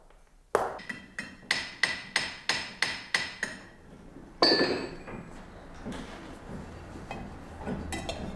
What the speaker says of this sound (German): Er punzt die Kanten und Linien noch einmal nach.